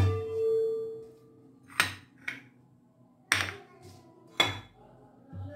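Metal clanks and knocks ring out as a frying pan and utensils are handled in a home kitchen while preparing homemade tacos, with four or five sharp separate hits over a low background hum.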